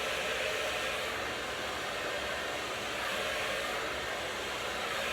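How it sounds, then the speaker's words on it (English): A hair dryer, used with a brush on short hair, blows with a steady, loud, even whoosh of air for several seconds, with no talking. "we're going to go in with our brush and our blow dryer"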